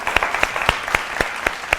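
A studio audience claps for a singer on a televised music show. The claps are close, loud and evenly spaced in a quick, steady rhythm, with no talking over them.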